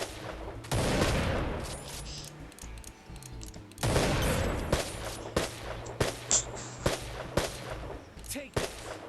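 Video game gunfire crackles in dense volleys, a long sustained burst followed by a rapid series of sharp, close shots with a low rumble underneath.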